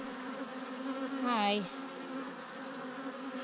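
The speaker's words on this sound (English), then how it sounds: "Look at you busy bees." Honey bees hum around a hive during a swarm capture, a close, steady buzz with one insect whining past and bending in pitch; a brief spoken greeting sits over it.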